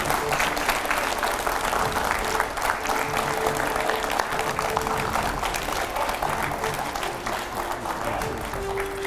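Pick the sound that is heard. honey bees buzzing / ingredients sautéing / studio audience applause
studio audience applause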